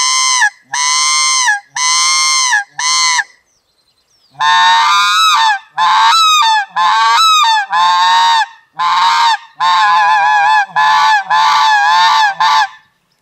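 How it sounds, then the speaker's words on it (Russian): A white-fronted goose call blown with the low tone gives a long series of loud, close honking calls. The calls come in quick bursts, some short and clipped, others with a break in pitch, and there is a short pause early in the series. "теперь покажу, как этот манок звучит с низким звуком."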